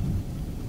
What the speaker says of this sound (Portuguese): ela percebeu que a tempestade estava ao redor deles